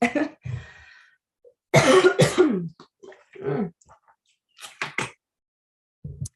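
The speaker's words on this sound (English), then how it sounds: "I've got a cough" Several short, harsh coughs and throat clearing up close, separated by silence, with a final faint cough near the end.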